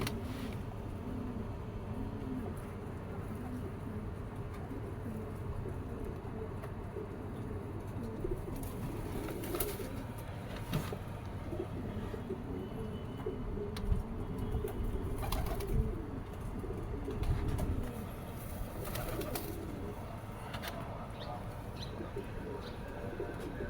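Teddy breed pigeons cooing, soft low repeated coos from several birds close by, with occasional chirps and a steady noisy background throughout.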